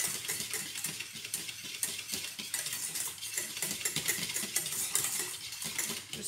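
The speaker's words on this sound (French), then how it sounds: "Donc on continue de mélanger." A sauce thickening in a pan as it is stirred steadily, with repeated quick metallic scraping and clinking of a utensil over a bright, continuous hiss, close up and without speech.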